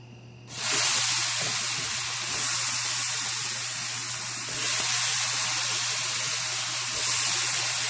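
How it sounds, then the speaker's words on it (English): Tomatoes hit a hot oiled pan and erupt into a loud, steady sizzle that starts abruptly and holds as a broad hiss, swelling slightly a few times, with no talking over it. "And now I'm going to toss in my tomatoes."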